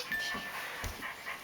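Go Go My Walkin' Pup toy dog making soft electronic whimpering and panting noises, brief and faint, with a small yip partway through.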